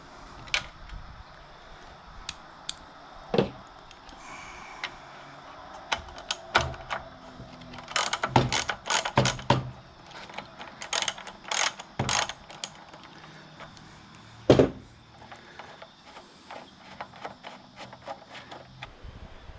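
Socket wrench ratcheting bolts off an old Rover lawn mower during a carburetor and fuel tank swap, heard as scattered short clicking bursts and sharp metallic ticks with gaps between, fairly close, no talking.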